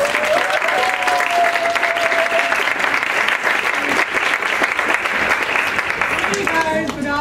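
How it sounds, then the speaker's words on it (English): Sustained applause from an audience at a school dramatic reading competition, steady and full for several seconds as a professor is welcomed to the podium, with a few faint voices mixed into the clapping. "Give a round of applause,"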